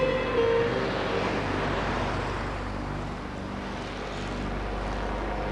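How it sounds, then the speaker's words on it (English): An approaching helicopter in the Mexico–USA border area gives a steady, loud engine and rotor drone that holds throughout, with no talk over it. "Oh, the helicopter is coming."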